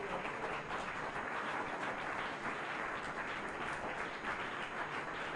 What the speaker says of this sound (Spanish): Um aplauso para o grupo aqui romana